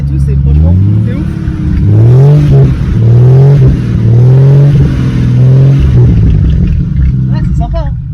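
A lifted Jeep Grand Cherokee 4x4 revs its engine and exhaust repeatedly, loud and close, with deep rising and falling sweeps in a steady rhythm of pulls, and a voice talks over the engine throughout.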